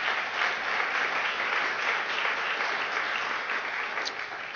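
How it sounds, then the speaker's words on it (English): An audience at a Philadelphia city arts event applauding City Council, a sustained, even burst of clapping from many hands that fills the room without pause. "So please give City Council a round of applause."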